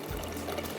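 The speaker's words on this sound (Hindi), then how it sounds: "ये हम इसमें डाल रहे हैं पानी को" Water pours steadily into a cooking pot for mutton masala, a short continuous splash that is close and moderately loud, with no talking.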